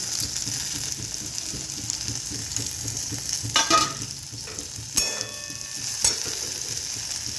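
Okra with salt fries in a pan with a steady close sizzle, broken by a few scraping stirs and clinks of a spatula against the pan. Soft background music plays underneath, and no one speaks.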